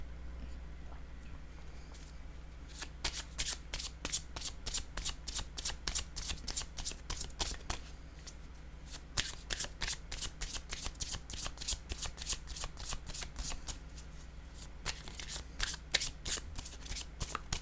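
Tarot cards are shuffled in repeated quick riffling bursts, crisp and close, with short pauses between rounds and a low steady hum underneath.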